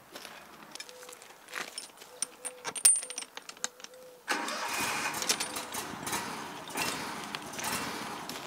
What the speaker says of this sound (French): Tu me démarres le moteur, Jean-Pierre ?